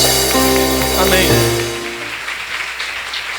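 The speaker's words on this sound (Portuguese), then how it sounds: "E vamos aplaudir ao Senhor Jesus." A church congregation in Taubaté applauds during a worship service; sustained musical tones fade out in the first half, leaving a loose, moderately loud patter of clapping.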